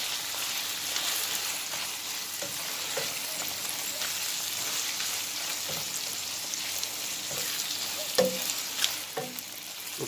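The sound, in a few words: stirring frying food in a pan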